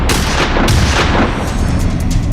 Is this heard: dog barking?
no